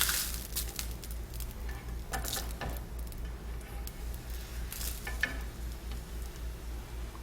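A corn tortilla fries lightly in hot oil in a skillet for an enchilada dish, a steady close sizzle and crackle running throughout with a few faint taps and clinks, no voices.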